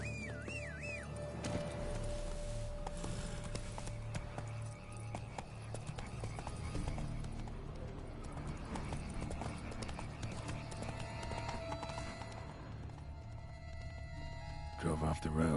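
Steady clip-clop of horse hooves throughout in the video game The Witcher 3: Blood and Wine, a continuous trotting rhythm with other game sounds and occasional voices layered over it.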